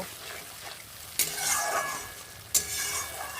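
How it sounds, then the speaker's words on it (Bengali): Mustard paste ground with chilli sautéing in a pan, a steady hiss of frying with two sharp scraping stirs, close and moderately loud, no voice heard. "সর্ষে বাটাটা এর মধ্যে আমার একটা লঙ্কাও পিষে দেয়া আছে বন্ধুরা এবার সুন্দর করে কষিয়ে নেব"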